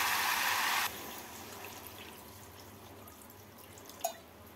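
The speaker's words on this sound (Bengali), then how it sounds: "চিনি দিয়ে নাড়াচাড়া করে নিয়ে এর মধ্যে দিয়ে দেবো পরিমাণ মতো জল" Water poured from a vessel into spinach curry in a pan, a brief bright gush lasting under a second, then near quiet with a soft clink just before the end.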